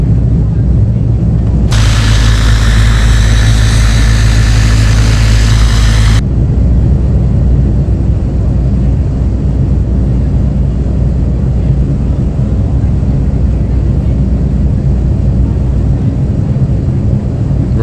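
Twin ATR turboprop engines run at a steady idle in the Prepar3D flight simulator, a continuous low rumbling drone that holds for the whole stretch, with a brief brighter hiss layered over it early on.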